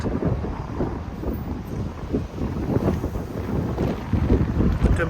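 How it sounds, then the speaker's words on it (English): Strong wind buffeting the microphone on Brighton's pebble beach in England, a loud, continuous rumbling roar with gusts that rise and fall throughout. "It's windy, so I apologize for the wind."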